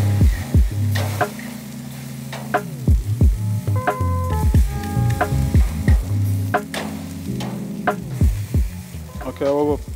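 A pork chop sizzles and spits in a hot pan, a steady loud frying hiss broken by scraping and clanking of utensils stirring, with background music running underneath.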